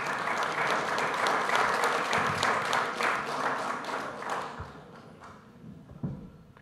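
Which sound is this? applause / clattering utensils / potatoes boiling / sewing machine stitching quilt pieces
applause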